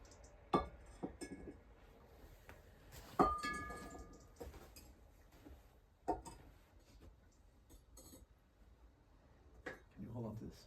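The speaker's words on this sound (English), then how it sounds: "I'll cork these." Glass bottles being corked by hand with homemade traditional methods give off scattered light clinks and knocks, a few sharper glassy taps standing out, in a quiet room with soft voices nearby.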